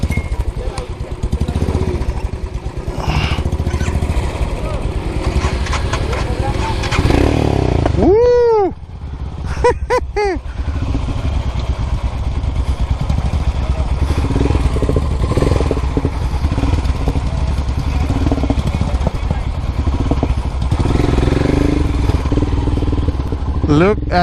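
A Royal Enfield Himalayan motorcycle starts up and its engine runs with a loud, close, continuous throb. A couple of sharp whooshing sweeps break in partway through, and voices chatter faintly beneath the engine.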